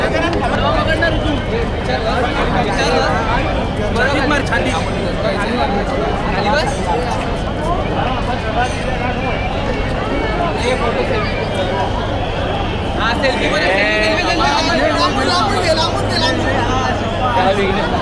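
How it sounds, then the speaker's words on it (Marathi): A huge, dense festival crowd surges at the Lalbaugcha Raja immersion procession in Mumbai, a constant roar of babble, shouts and chatter with a steady drone underneath, while someone talks close by over the throng. "ही आहे लालबागच्या राजाची आमच्या राजाची गर्दी आहे."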